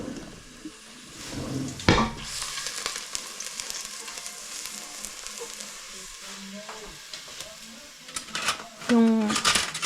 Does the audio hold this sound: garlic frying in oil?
yes